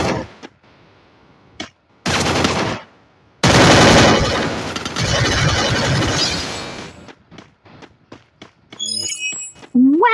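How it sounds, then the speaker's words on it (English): Weapon fire in the Free Fire video game: a short burst, then a long sustained stretch of rapid automatic gunfire, loud and close, followed by scattered single shots and clicks, with no talking. "fire your weapon now!"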